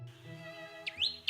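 A tailorbird calls once in a short, bright phrase of repeated chirping notes, rising and sliding, heard fairly faintly outdoors.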